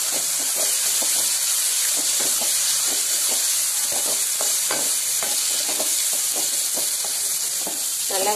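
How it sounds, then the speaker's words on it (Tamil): Ingredients sautéing in a pan for a Madurai Melur-style idli kurma, giving a loud, steady sizzle and hiss with irregular stirring scrapes throughout, no talking. "நல்லா வதங்கிடுச்சு."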